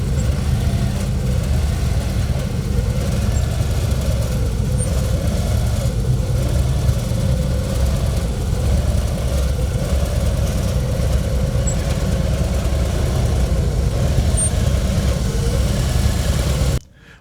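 A police Harley-Davidson Road King motorcycle idles steadily during a slow-speed riding course, a continuous loud low engine rumble with slight wavering in pitch, then cutting off abruptly at the end.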